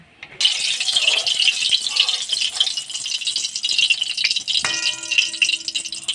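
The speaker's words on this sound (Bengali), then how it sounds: "গরম হয়ে গেছে, আমি এর মধ্যে এবারে সর্ষের তেল দিয়ে দিচ্ছি।" Mustard oil poured into a hot pan before frying besan-coated fish, bursting into a sudden loud, close sizzle that keeps crackling steadily for several seconds.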